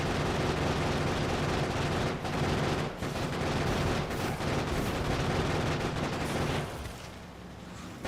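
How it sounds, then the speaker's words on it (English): Grenade explosions and gunfire in the Factorio: Space Age video game, a dense, continuous barrage of rapid shots and booms that suddenly drops away near the end. "Gotta love drive-by grenades."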